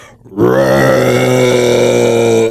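A man imitates an alligator with a deep, sustained rumbling growl from his throat, loud and close, lasting a couple of seconds.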